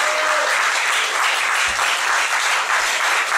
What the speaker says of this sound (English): that's the longest clap I've ever had.